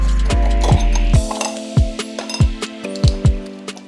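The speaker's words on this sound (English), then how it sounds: "So now use your screwdriver to split the wheel like this." A screwdriver prying apart the split wheel of a Nanrobot LS7+ electric scooter during an inner tube change: a sharp series of close metallic clicks and ratcheting snaps, roughly a dozen irregular hits over a faint mechanical hum.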